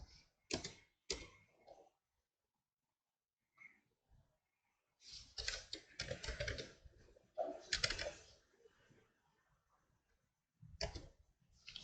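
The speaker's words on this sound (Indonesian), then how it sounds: "kamu cukup mengetik perintah clear" Someone types the Linux clear command on a computer keyboard: short bursts of crisp keystroke clatter separated by quiet pauses, close and dry.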